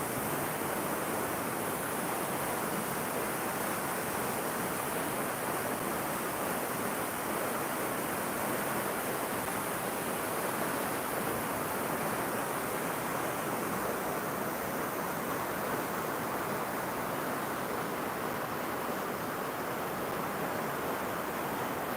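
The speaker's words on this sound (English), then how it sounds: "They've made like a bit of a waterfall." A small waterfall on a river pours in a steady, dense broadband rush, close and continuous throughout with no talking over it.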